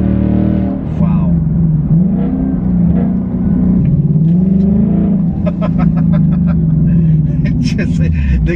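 A 2024 Ford Mustang fitted with a throttle controller revs hard, its loud, close engine tone rising and falling in sustained pulls, with sharper crackling bursts toward the end.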